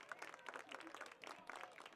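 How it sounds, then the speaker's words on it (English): Crowd applause at a women's college soccer match, steady scattered clapping from spectators in an outdoor stadium, moderately distant with some faint voices mixed in. "Good applause going around from the crowd."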